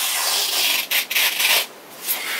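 A knife edge with microscopic serrations drawn through a cut, a close, loud rasping scrape that stutters with brief catches and dropouts partway through before continuing.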